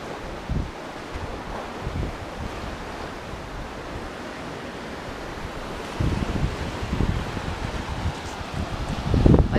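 Seawater surges in under the rocks below a cliff wall at a small beach in Arraial do Cabo, Brazil, a continuous rushing wash mixed with wind buffeting the microphone, swelling louder toward the end.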